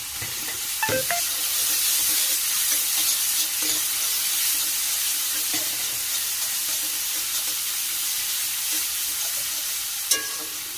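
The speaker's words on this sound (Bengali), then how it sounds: "একটুখানি আদা রসুন পেস্টটা দিয়েছি, একটু ভাজা ভাজা করবো যতক্ষণ না তেল ছাড়ছে" Ginger-garlic paste fries in hot oil with a steady, close sizzle, broken by a few stirring scrapes and a sharp clink near the end.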